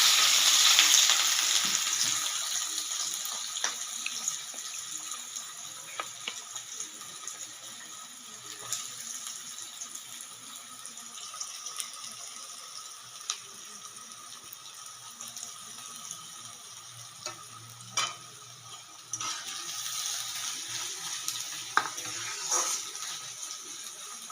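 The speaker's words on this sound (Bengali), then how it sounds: "পাঁচ ছ মিনিট ধরে পেঁয়াজটাকে ভাজছি" Chopped onions fry in hot oil in a wok with a long, steady sizzle, punctuated by occasional sharp stirring clicks and scrapes, loudest at the start.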